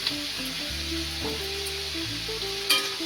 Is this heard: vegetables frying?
yes